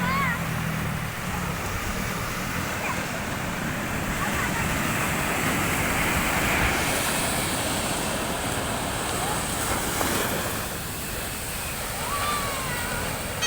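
Waves wash continuously onto a beach at the seaside, a dense, steady roar of surf with no distinct breaks, fairly loud and unbroken throughout.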